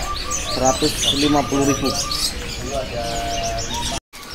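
Zebra doves at Pramuka bird market coo in soft repeated phrases amid busy chirping and tweeting from many caged birds, while someone talks over them.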